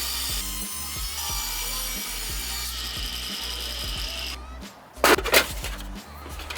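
A power saw cuts a slot into wooden dresser legs, with a rhythmic clattering mechanical chatter and a whining tone that switches off, followed by a few louder bursts of cutting, close and loud.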